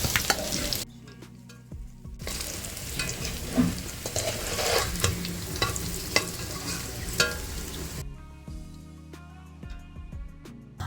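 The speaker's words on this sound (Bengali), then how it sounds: "আলুগুলো ভাজা খুব ভালো মতো হয়ে গেছে" Potatoes for chicken biryani frying in oil while being stirred, a close, busy sizzle broken by repeated scraping and clinking of a spatula against the pan, quieter at the start and end.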